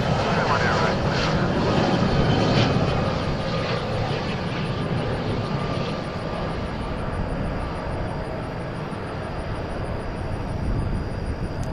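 A short-haul passenger plane taking off at a busy airport, its engine roar loudest early on and easing off gradually, with a high whine above and people talking.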